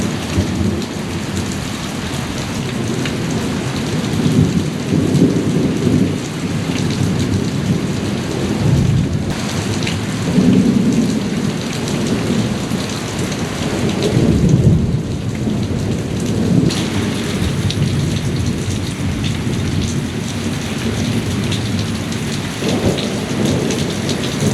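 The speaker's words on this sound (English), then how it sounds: "We got a heck of a lightning storm going on out here." A heavy lightning storm outdoors beside a backyard pool, with steady rain pouring on surfaces and repeated deep thunder rumbles swelling and fading throughout, loud and continuous with no talking.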